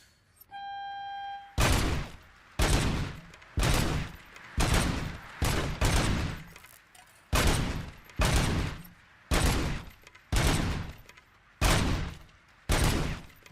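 Gunfire in a video game shooter: eleven loud, sharp bursts of shots in a steady rhythm about one second apart, each decaying quickly, after a short electronic tone at the start.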